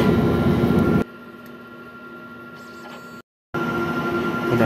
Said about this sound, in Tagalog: Ito po ang Sable Printer Smart 1. Ito naman po ang head clean.